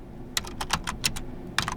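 Quick bursts of keystrokes on a computer keyboard while typing PowerShell code in Windows, close and clear, in irregular clusters of taps with short pauses between.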